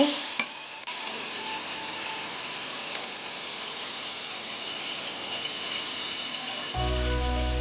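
Pointed gourd (potol) pieces seasoned with turmeric and a little salt fry in oil, giving a steady, close hiss of sizzling that carries on evenly before music cuts in at the very end.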